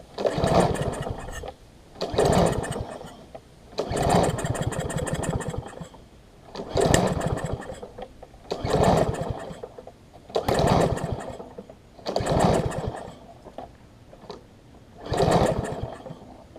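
A Husqvarna AWD push mower engine with a plastic carburetor sputters in about nine short, evenly spaced bursts, each a loud, rough roar that dies away before the next.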